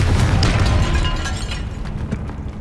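A Confringo blasting spell explosion in the Hogwarts Legacy video game, a loud deep boom with a rumbling burst that fades slowly into a crackling tail, no voices.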